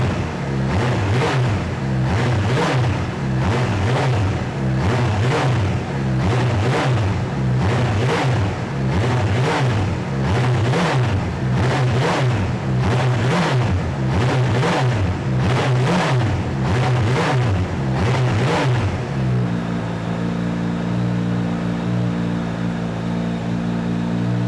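A 2018 Kawasaki H2 SX SE supercharged touring motorcycle with a slim Akrapovič muffler revs repeatedly in loud rhythmic bursts of deep mid-low exhaust, then settles into a steady idle near the end.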